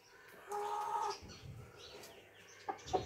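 A hen clucks close by with a short drawn-out call, followed by a few sharper clucks, against quiet outdoor background.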